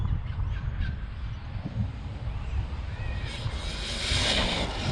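A 1/8-scale HSP RC truggy running on 6S power hits full throttle outdoors, its motor and drivetrain rising to a loud, strained whine over a wind-buffeted, rumbling background, building toward the end.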